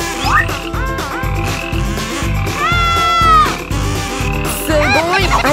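Cartoonish frog croaks from a video game, repeated in a steady rhythmic loop alongside game music and effects, loud and close.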